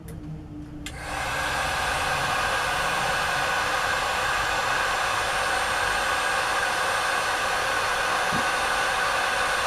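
A heat blower aimed at heat-shrink tubing on a necklace wire switches on after a brief moment and then runs as a loud, steady hiss and whoosh that stays at one level to the end.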